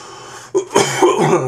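A person coughs a few times, short harsh bursts close to the microphone with brief gaps between them, with no talk around them.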